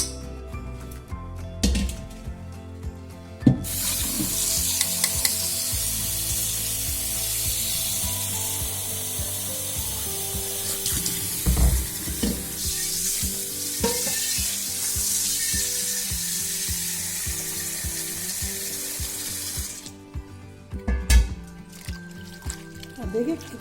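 Leafy greens are washed in water for a second rinse, making a steady rushing, splashing hiss that lasts most of the stretch, framed by handling clatter at the start and end. Someone talks over it.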